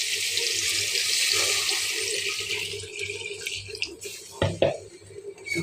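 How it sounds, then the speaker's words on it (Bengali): Water is poured into a cooking pot in a home kitchen, a steady rushing splash for several seconds that then tapers off, followed by a few clanks, with a voice talking alongside. "এখন আমি পানি দিব।"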